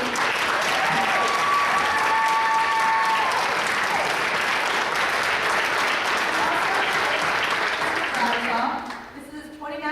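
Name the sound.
audience applause in auditorium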